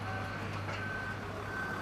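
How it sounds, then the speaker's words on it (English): Steady high-pitched reversing beeps from a lorry on a London basement construction site, repeating in a regular on-off pattern over a constant low engine hum, fairly close. "You can see now that lorry is on its way back."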